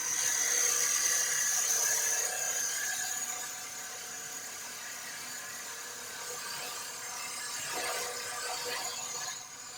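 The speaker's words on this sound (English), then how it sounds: "It cuts a little bit better than the wall gouge that I used in the beginning." A gouge cutting an oak lidded box on a spinning wood lathe gives a thin, steady squealing hiss that fades slightly midway, then rises again with a brief scrape near the end.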